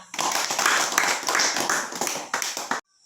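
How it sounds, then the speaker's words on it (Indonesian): A classroom of students applauds a group presentation, dense loud clapping from many hands for nearly three seconds before stopping abruptly into silence. "berikan aplaus buat kelompok 3"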